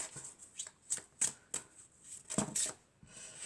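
Tarot cards being shuffled by hand nearby, a quiet series of quick riffling swishes and taps.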